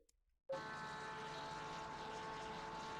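Racing video game time trial car engine bursting in after a brief silence, then holding a loud, steady, droning tone at high revs for the rest of the moment.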